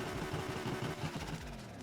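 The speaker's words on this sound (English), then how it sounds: "And exhaust sound." Porsche 918 Spyder exhaust in the Need for Speed Heat racing game: a low, throaty engine burble with pulsing rhythm, steady and moderately loud throughout the short stretch.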